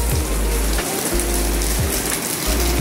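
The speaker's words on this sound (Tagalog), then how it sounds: "biglang lumakas ang ulan" Heavy rain pours down onto a house roof, a loud, dense and continuous hiss with a deep low rumble running underneath.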